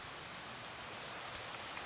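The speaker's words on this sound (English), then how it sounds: "Oh, we're getting a little bit of rain." Light rain falls outdoors, a faint, even hiss of drops heard at a distance with no other sounds.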